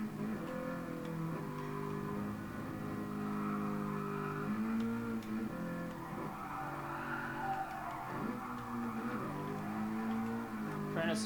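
A Toyota GR86 drifting in Gran Turismo Sport, its engine droning and rising and falling in pitch as the tires squeal and skid through corners, continuous and close.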